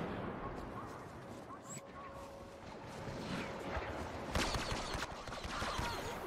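Chaotic Star Wars Battlefront firefight with dense blaster gunfire and bursting grenades, a sharper blast near the middle, steady and fairly loud throughout with game voices mixed in.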